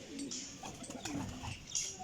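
A Firozpuri golden pigeon coos close by in a string of soft, low, throaty coos, with faint higher chirps in the background.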